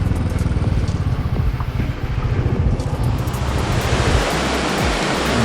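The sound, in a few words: water falling from a high waterworks outlet, Drang, Kashmir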